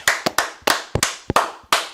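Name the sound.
audience clapping at live UFC watch show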